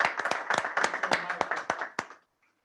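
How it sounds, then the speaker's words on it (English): A small group at a hybrid business-intelligence user group meeting claps briefly, with distinct, irregular individual claps close by that taper off and stop abruptly, leaving silence. "Can I get a round of applause"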